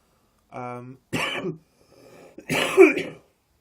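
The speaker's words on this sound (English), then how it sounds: "I have a really bad cough" A single rough cough or throat-clearing bursts out after a short voiced sound, followed by another harsh, louder cough, close and alone.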